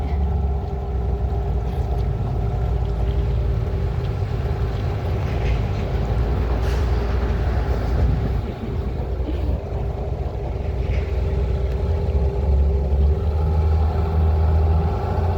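An outboard boat motor drones steadily at full throttle throughout, loud and close, with a constant rumbling hum and wind noise.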